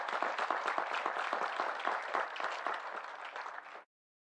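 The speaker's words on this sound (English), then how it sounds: "Can we give them a round of applause?" Audience at a Boise State spring commencement ceremony breaks into sustained, dense applause with many overlapping claps, steady and loud throughout before cutting off abruptly near the end.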